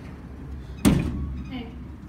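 A yellow Otis elevator door at the Westin Bonaventure in Los Angeles gives a single sharp thud and brief rumble as it moves, over a steady low hum.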